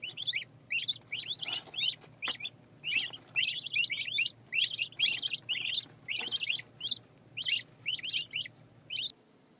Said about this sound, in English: we got turkeys